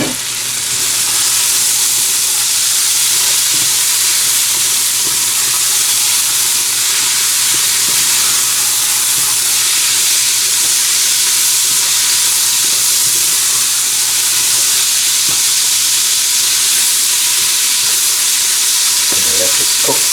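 Carrots and bok choy with split peas fry loudly and steadily in a pot, a dense, continuous sizzle and hiss with faint stirring knocks, close and unbroken for the whole stretch.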